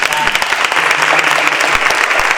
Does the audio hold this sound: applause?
yes